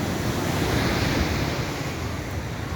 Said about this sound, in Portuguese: um dia chuvoso, mas com um mar lindo. Assim, ó. O mar aqui é assim, ó.